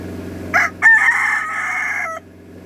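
A five-year-old rooster crows once, close and loud, a strained drawn-out call lasting about two seconds with a short break near its start, over a low background murmur.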